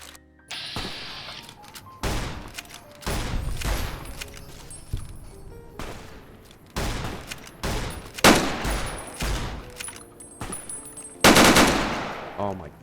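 Gunfire from an AK rifle in Fallout New Vegas erupts in repeated rapid bursts and single cracks across a chaotic firefight, with loud impacts and crashes mixed in and some speech.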